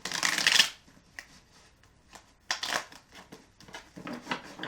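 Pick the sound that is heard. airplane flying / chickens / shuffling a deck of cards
shuffling a deck of cards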